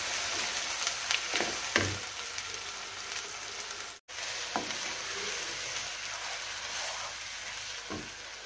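Onions frying in a pan for a Hyderabadi khati chicken give a steady, close hiss and sizzle, broken now and then by soft stirring scrapes and one brief cutout.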